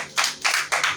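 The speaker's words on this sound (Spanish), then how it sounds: "Dale palmas al Señor" Congregation clapping hands in unison during a church service, three bright bursts of applause-like claps in steady rhythm, close and fairly loud.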